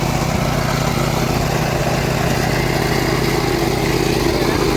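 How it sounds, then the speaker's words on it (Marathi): A tractor's engine runs continuously in a farm field in the Konkan countryside, a steady mid-pitched drone heard up close with no breaks. "ट्रॅक्टर इकडे नागायला जात आहे."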